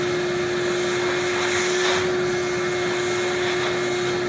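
A vacuum cleaner drones steadily and loudly throughout, with a constant whine over a rough rushing hiss, cleaning mahogany wood around an air vent on a wooden stand up paddle board.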